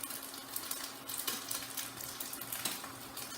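Tofu sizzling and frying steadily in a pan, a soft, even crackle with occasional sharper pops and faint stirring, close and fairly quiet, with no talking.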